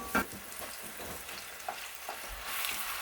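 Food frying and browning in a pan for stuffed shells gives a faint, steady hiss of sizzling with a few small pops and light stirring clicks, growing slightly louder toward the end.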